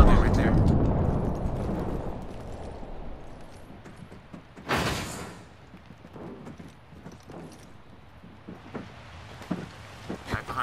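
Frag grenade blast in the battle royale shooter Apex Legends, a single loud broadband burst roughly midway through, set amid gunfire-like clatter and game noise with players talking over the action.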